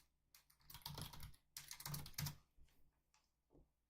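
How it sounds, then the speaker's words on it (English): Quiet typing on a computer keyboard: clustered bursts of rapid key clicks with short gaps, a few isolated taps trailing off, and no voices. "So if I type go north"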